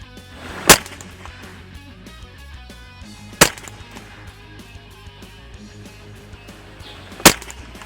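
Three sharp, loud rifle shots from a scoped rifle fired at a 30 m range, spaced a few seconds apart, each a single crack standing out against quiet outdoor background noise.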